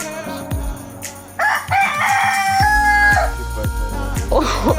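A rooster crows in a tropical setting in Bali, its drawn-out call rising clearly over a backdrop of repeated low thumps and other busy ambient noise.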